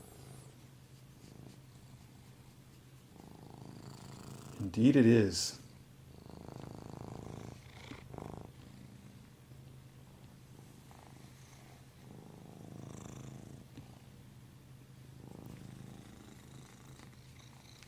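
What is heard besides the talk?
cat purring close to the camera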